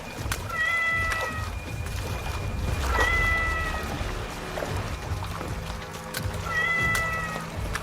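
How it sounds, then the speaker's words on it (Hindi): A cat meows three times, drawn-out and plaintive, over a low rumbling background. "उसे बिल्ली की आवाज सुनाई देने लगी"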